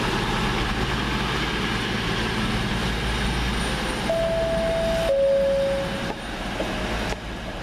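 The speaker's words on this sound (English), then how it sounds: "221-107. These with the 11:01 Virgin train service from Glasgow Central to London Euston via Birmingham New Street." A Virgin Class 221 diesel unit at Crewe station, on the Glasgow Central to London Euston service, hums with a loud, steady engine drone and broad rumble, with sustained high tones shifting partway through and no speech.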